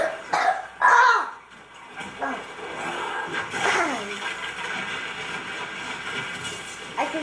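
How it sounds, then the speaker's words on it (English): A couple of sharp coughs near the start, followed by steady background noise from the game Plants vs. Zombies: Garden Warfare with faint talk and a short burst near the end. "Sorry, I do have a cough."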